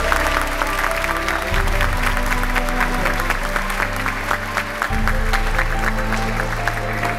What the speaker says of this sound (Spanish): Y por favor, demos un aplauso a su querida madre, doña Carmen.